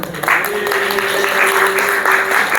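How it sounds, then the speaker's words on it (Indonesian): Children in a classroom clap and applaud together in a loud, continuous patter, while a sustained tone hums beneath the hands. "Tepuk tangan dong."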